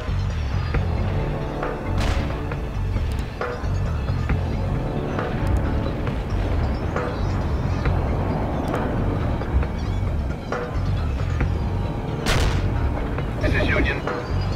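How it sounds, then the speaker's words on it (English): Incoming artillery fire in the strategy game World in Conflict: a steady rumbling barrage with repeated heavy booms and sharp impacts, loud and continuous across the whole stretch, with radio voices talking over it. "The artillery rounds are inbound."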